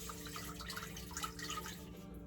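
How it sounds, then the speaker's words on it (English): Rice is rinsed with filtered water in a home kitchen, making soft, close sloshing and trickling water sounds that run steadily with no talking. "a rinse with some of my filtered water"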